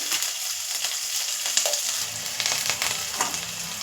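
Chopped garlic, capsicum and onion roasting in hot oil in a pan for baby corn manchurian, producing a dense, continuous sizzle with stirring scrapes, close and loud, with no voices.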